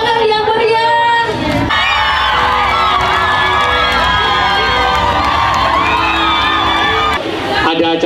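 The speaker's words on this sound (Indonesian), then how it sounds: "Tepuk tangan yang meriah." A loud crowd cheers and shouts steadily, with excited children's voices and whoops rising over continuous applause-like noise.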